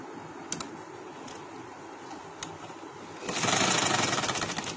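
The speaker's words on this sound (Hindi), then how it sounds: "इसको मैं ऐसे करके इधर सिलाई लगा लूंगी।" A sewing machine stitches a kurta button placket, a soft steady whir with faint ticking that rises into a louder, faster run near the end, with no talking.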